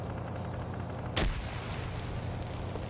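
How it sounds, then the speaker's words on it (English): A single grenade explosion in the Arma video game, one sharp booming blast in the middle over a constant background of in-game ambience and distant rumble. "Good defensive grenades by Op 4, but I don't think they knew this group was coming."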